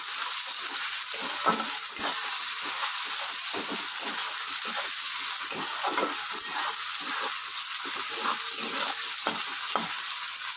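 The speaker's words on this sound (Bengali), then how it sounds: "পেঁয়াজটা একটুখানি ভাজা হয়ে গিয়েছে, হালকা জাস্ট রংটা চেঞ্জ হয়েছে" Onion fries in a pan with salt, making a steady moderate sizzle. Frequent soft scraping stirs punctuate it at an irregular rhythm.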